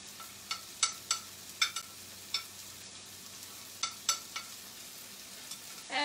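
Tomatoes softening in a pan for a spiced chickpea curry, a faint low sizzle punctuated by a dozen or so sharp clinks and scrapes from stirring, quiet and close with no talk.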